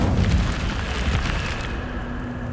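Incendio fire spell in Hogwarts Legacy, a loud, continuous roaring whoosh of flame that fills the whole moment with a dense rumbling blast and eases slightly at the end.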